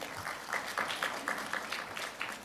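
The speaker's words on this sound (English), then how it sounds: "Let's give him a clap." Scattered applause from an audience at a corporate financial results presentation, heard faint and brief as a series of light claps.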